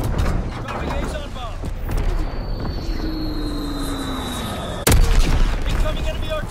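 Artillery fire in Call of Duty WWII rumbles in the background while a radio voice speaks, ending with one loud, sudden boom near the end, with a whistling tone sliding across the middle.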